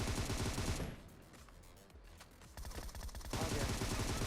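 Rapid automatic Groza rifle fire in the mobile game PUBG Mobile, dense strings of shots in bursts with a brief lull in the middle, heard faintly at low volume.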